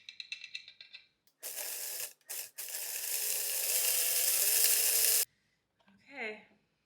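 A Vitamix blender whirs loudly for about four seconds at steady high speed, with brief stop-start bursts at the beginning, after some faint clicking handling sounds; quiet follows, then a short soft noise near the end.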